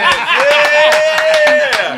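Sharp hand claps strike in a fast, steady rhythm, each crack close and bright over a sustained tonal hum and faint chatter.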